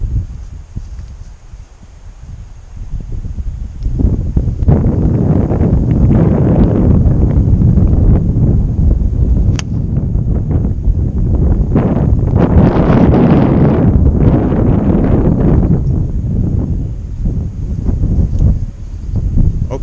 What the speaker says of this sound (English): The wind is a little bit off the left